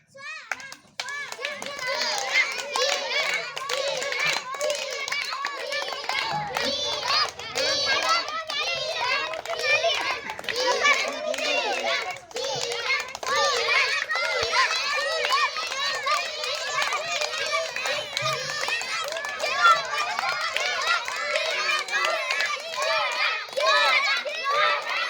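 Young schoolgirls run in a ring-and-bottle game at a primary school, with quick footsteps and excited children's voices and shouts continuing throughout.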